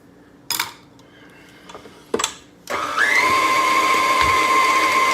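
Electric mixer creaming butter and sugar, starting after a few clinks and knocks of utensils, then running with a steady high whine and drone close by.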